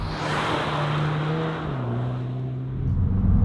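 A 300 hp Volkswagen Golf GTI Clubsport 8 pulls hard under acceleration, its steady drone stepping down briefly as a gear changes, then building loud again close by.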